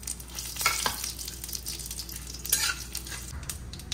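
Whole mustard seeds, radhuni and dried red chilies temper in hot oil for Bengali shukto. A close, continuous crackling sizzle carries a few louder spitting bursts, and no voices are heard.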